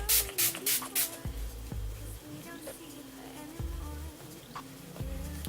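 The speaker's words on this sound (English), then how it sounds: "now I'm going to go ahead and set my makeup with my Maria Badescu setting spray." A Mario Badescu makeup setting spray mists onto a face in several quick, close hissing bursts, followed by a quieter stretch with soft voice sounds and faint handling noises.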